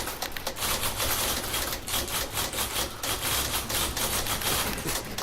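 Rapid typewriter clacking from a video game, a dense run of sharp mechanical keystrikes that carries on loud and continuous for the whole stretch, without any talk.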